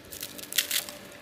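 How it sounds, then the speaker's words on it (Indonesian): Teeth bite into a crunchy fried egg roll, giving a few sharp, dry crackling crunches close to the mic, loudest in the middle of a quiet moment. "tuh renyah banget. Remukannya banyak banget ya."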